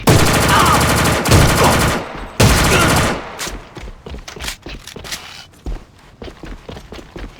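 An M16A2 rifle in the game A.V.A fires loud, dense full-auto bursts for about three seconds, then a run of sharper single and short bursts spaced irregularly.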